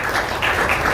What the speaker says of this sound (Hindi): एक बार इनके लिए भी जोरदार तालियां।